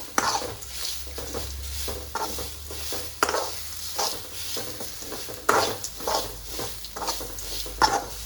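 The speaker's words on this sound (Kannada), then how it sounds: "ನೆಕ್ಕೆ ತಾರಾಯಿ ಬೊಕ್ಕ ಬೆಳ್ಳುಳ್ಳಿ ಪಾಡಿಯೆ ಬೊಕ್ಕ ಬೇರ್ ಸೊಪ್ಪು ಪೂರ ಪಾಡ್ದು ಪೂರ ಒಟ್ಟಿಗಿತ್ತ ಫ್ರೈ ಮಲ್ಪು" Coconut, garlic and coriander frying together in a pan, a soft sizzle under repeated spoon stirs and scrapes against the pan, with occasional sharper clacks of utensil on metal.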